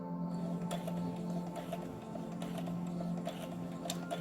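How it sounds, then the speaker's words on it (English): Sewing machine stitching and then back stitching a ruffle onto a shirt, a quiet, rapid mechanical whirring with faint rhythmic ticks, heard alone. "Now we're going to stitch and then back stitch"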